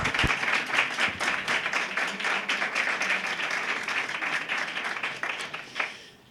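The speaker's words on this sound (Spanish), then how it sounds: "Fuerte aplauso." An audience applauds a speaker introduced at a talk on poltergeists and haunted houses, with a moderately loud round of clapping with individual claps audible, tapering off at the end.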